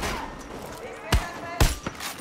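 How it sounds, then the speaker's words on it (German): Two sharp gunshots ring out about half a second apart in Far Cry New Dawn, punchy and close, over a steady backdrop of game ambience and faint voices. "Schöner Schuss!"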